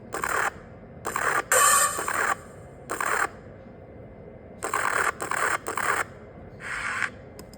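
A series of harsh, gritty synthetic rasping bursts, each brief and separated by short gaps, like a saw stroke, a one-shot built in the Citrus synth, with no voices.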